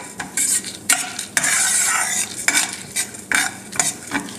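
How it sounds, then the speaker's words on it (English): Lentils (dal) roasting in a pan for South Indian paruppu thogayal, with gritty scraping stirs and clinks of a spoon over a soft sizzle, repeated at close range. "see that is roasting"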